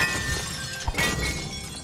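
Bottles smashing in the video game It Takes Two, with sharp glassy crashes and a bright shatter over a busy game background.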